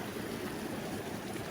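A stream runs at a sketchy trail water crossing on a hike to Bondcliff, Bond and West Bond, giving a steady, close, full rushing wash of water with no pauses throughout.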